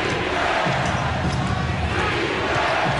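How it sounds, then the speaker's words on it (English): An arena crowd at a 2002 NBA playoff basketball game, Orlando against Charlotte, roars and chants for defense, a dense, loud, sustained rumble of many voices. "Crowd calling for defense,"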